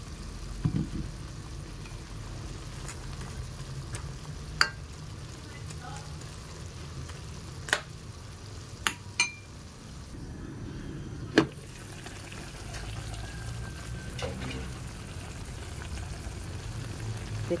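Tofu frying in a pan for kangkong, a soft continuous sizzle under quiet sounds, with a few sharp utensil clicks and taps scattered throughout.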